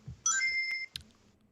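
A phone notification chimes as a short electronic tone that holds steadily for about half a second, followed by a brief soft blip, heard close in an otherwise quiet room.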